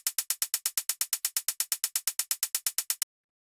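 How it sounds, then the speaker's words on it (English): A Roland 909 drum machine hi-hat sample repeats as a rapid, even string of about twenty crisp, bright ticks over three seconds, each decaying quickly, then stops; clean and alone. "the first sound we have here is this 909 hi-hat"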